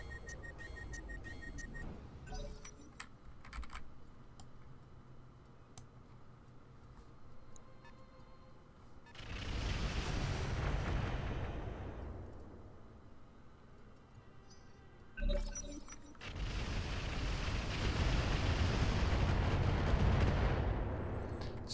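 Mech weapons in the BattleTech mod Roguetech fire in two long, roaring broadband salvos, each lasting several seconds and swelling loud after quieter ticking and mechanical clicks, with no talk.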